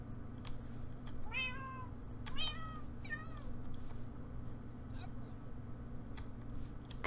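Cats in a Minecraft Pixelmon birch forest give a few faint meows over a steady background hum, with a voice talking over parts of it.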